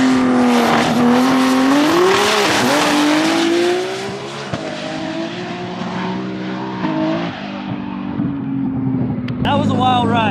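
A Ferrari race car accelerates hard, its loud engine note climbing through shifts before easing to a steadier drone, then a sharp revving burst near the end; voices may sit faintly under the engine.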